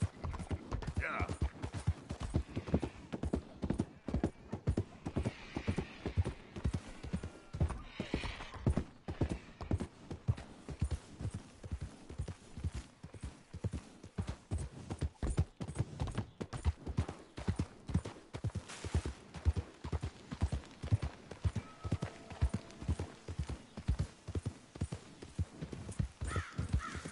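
Horse hooves clip-clop steadily in Red Dead Redemption 2, a regular rhythmic trot of soft thuds lasting throughout, with faint crow caws and brief voices in the distance.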